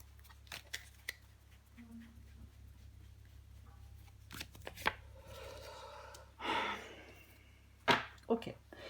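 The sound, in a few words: tarot cards being handled and drawn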